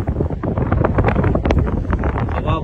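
Strong wind buffets the microphone at the US-Canada border near Niagara Falls, a loud continuous rumbling roar with gusty surges throughout the short stretch.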